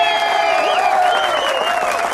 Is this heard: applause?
yes